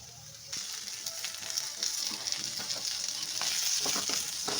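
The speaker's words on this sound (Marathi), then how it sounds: "कांदा मस्त छान फ्राय करून घेऊया" Chopped onion fries in a hot pan with a dense, steady sizzle that grows louder after the first half-second, broken by scraping stirs of a spoon.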